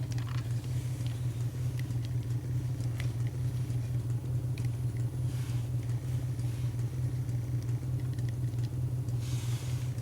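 A Bedini SSG wheel machine runs steadily, giving off a constant low electrical hum and rumble with faint intermittent clicks and rattles, close by and unchanging throughout.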